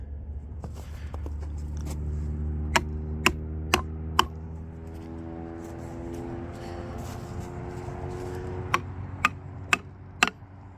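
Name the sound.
hammer tapping wedges into stump cut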